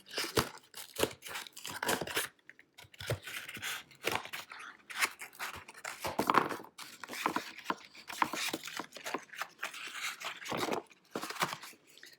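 Scissors snip through a cardboard egg carton to cut out the individual cups, making rapid crisp cuts that repeat in uneven bursts with crinkling and tearing of the carton, close and continuous for about twelve seconds.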